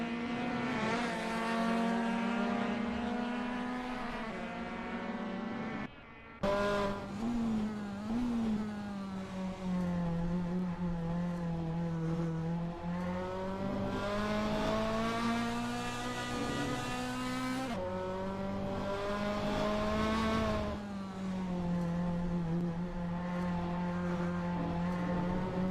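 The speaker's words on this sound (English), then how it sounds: "That VAC Fiat 131 looks good driving through Bilstein Curve." A vintage Fiat 131 race car in a racing video game on the Nürburgring circuit, its engine droning loud and close with a steady high pitch that rises and falls through gear changes, with one brief break in the sound.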